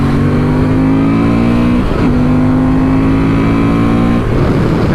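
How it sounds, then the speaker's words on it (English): 2024 Honda Transalp 750 motorcycle engine revving hard and close, a loud sustained buzzing drone that dips briefly around two and four seconds before surging back, with no talk. "it's got quite an angry noise once you rev it up"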